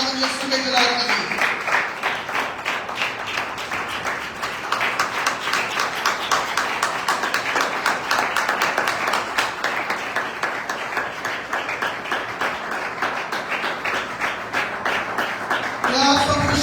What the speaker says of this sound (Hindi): जोरदार तालियां खुदावंद यीशु के जलाल के लिए।